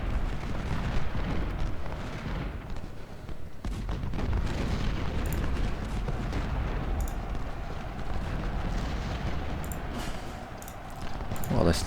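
Volley fire and artillery in the Civil War strategy game Ultimate General: Civil War roll as continuous rumbling booms and crackling musketry, dense and loud across the whole stretch, with a voice speaking over the battle.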